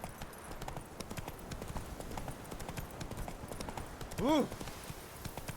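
Roach the horse's hooves clip-clop in a steady, brisk rhythm within The Witcher 3, faint and continuous, with a short vocal exclamation near the end.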